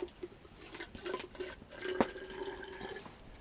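A cocktail is poured into a bottle outdoors at a bivouac, giving a faint, close trickle of liquid with small splashes and gurgles over a couple of seconds.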